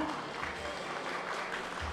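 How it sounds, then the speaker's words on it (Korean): Steady audience applause at a Gyeonggi Province government ceremony, a continuous even wash of clapping at moderate volume throughout, without speech over it. "박수 부탁드립니다."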